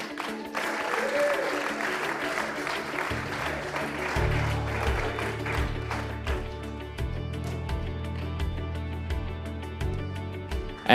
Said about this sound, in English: Please, a round of applause for Daniel McPherson.